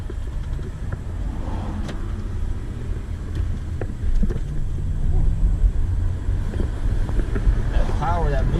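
A 2002 VW Passat V6 on a drive after a subframe swap, a low steady engine and road rumble heard from inside the cabin with wind buffeting, a few faint clicks and a brief squeak near the end.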